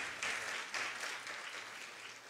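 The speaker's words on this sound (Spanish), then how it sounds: "Fuerte el aplauso para la ministra de Educación" Applause for the Minister of Education at a regional school competition final in Panamá Oeste, a soft, quiet wash of clapping with a couple of swells, fairly distant and steady.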